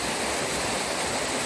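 Steady, broadband rush of a waterfall at a riverside spot, a continuous close roar filling the whole clip with no speech.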